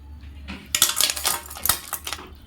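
Metal items clatter and clink into a pot, a run of sharp irregular clanks and jingles, close and fairly loud, with no talking.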